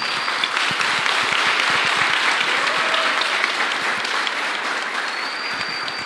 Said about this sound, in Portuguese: Dá uma salva de palmas para esse garoto aí.